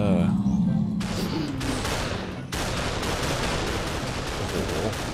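Rapid bursts of modded gunfire in Minecraft, loud and close, firing in quick repeated volleys with a brief pause midway, while a voice talks over part of it.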